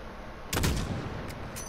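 A single sharp sniper rifle shot goes off in Call of Duty Modern Warfare, near and loud, then fades into a low rumbling tail with faint later clicks.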